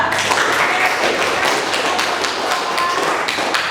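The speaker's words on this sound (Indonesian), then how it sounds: "Kita berikan aplaus untuk kelompok 2." A classroom gives a student group a round of applause after its presentation, with dense, steady clapping from many hands close by that holds evenly throughout.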